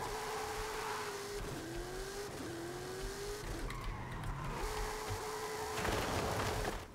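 A 1970 Dodge Coronet Super Bee engine in Forza Horizon 5 roars continuously, rising in pitch through gear shifts, with brief tire squeal and a louder surge near the end, no talking.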